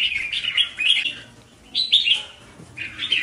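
A red-whiskered bulbul (chào mào) sings nearby in clear, bright chirping phrases, three bursts of warbling notes separated by short pauses, loud and alone without talk.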